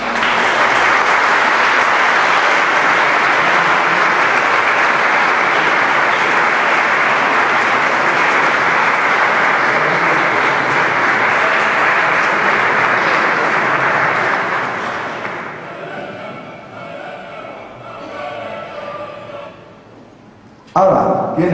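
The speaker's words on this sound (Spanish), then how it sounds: "Vamos a darle aplauso a la madre." Audience applause at a conference lecture, a long sustained burst of dense clapping that fades out after about fifteen seconds, followed by quieter room sound and a speaking voice.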